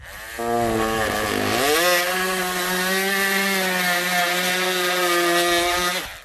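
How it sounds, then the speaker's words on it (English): A renovator multi-tool cuts into Gyprock plasterboard on a wall, giving a loud, steady high-pitched buzzing whine that rises in pitch after the first second and holds continuously for about six seconds, close up with no talking. "you can get your renovator tool out, or whatever you call it, multi-tool, and you can use that"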